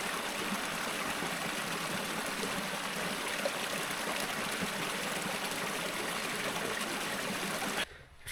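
Cold mountain stream on a Himalayan trek, flowing and gurgling in a steady, full rush close by that cuts off abruptly near the end.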